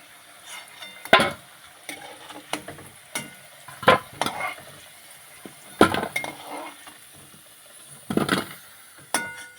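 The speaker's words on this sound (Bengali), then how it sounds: "আলুগুলো ভাজা হয়ে গেছে এবারে তুলে নেব" Fried potatoes are stirred and lifted out of a pan of hot oil, with a steady close sizzle under repeated sharp metal scrapes and clinks of a spatula against the pan at irregular intervals, and no talking.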